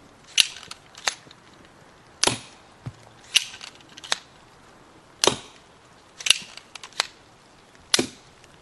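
A bolt-firing weapon shot into a dense styrofoam target: sharp snapping releases and thuds come one at a time, separated by mechanical racking clacks, close and crisp against near silence.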